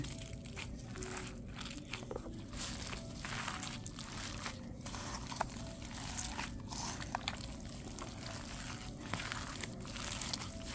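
Pork ribs being kneaded and squeezed by hand with garlic to make fermented pork, giving steady wet squishing and crunchy crinkling close up, continuous throughout with no talking.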